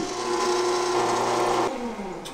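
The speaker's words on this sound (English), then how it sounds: "Man, is that lathe cool." A lathe whines steadily while turning a small shaft adapter for a gas-powered Nerf blaster, a sustained close tonal drone that cuts off and winds down near the end.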